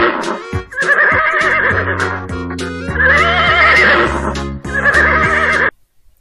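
A horse whinnies loudly and close by in three long, shaky neighs with short breaks between them. No other sound joins it, and it ends abruptly.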